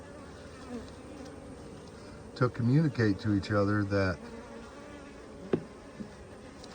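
A steady drone of buzzing bees runs throughout, with a person talking briefly over it partway through.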